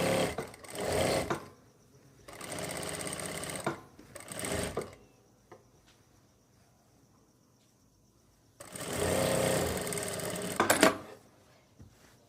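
Sewing machine stitching palazzo pants, three bursts of fast rhythmic whirring and clatter with pauses between, the last one longest, close and moderately loud without talk.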